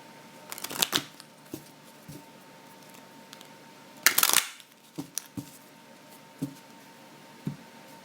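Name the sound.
tarot card being pulled from deck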